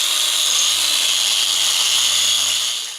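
A power polisher works across an engineered quartz countertop, giving a loud, close, steady whirring grind that holds for about three seconds before tapering off, alone without speech.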